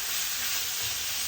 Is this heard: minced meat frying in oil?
yes